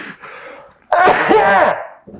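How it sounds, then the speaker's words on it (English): One sharp, forceful sneeze bursts out close by after a short, quiet breath, followed by a brief faint sound. "Powerful sneeze, actually."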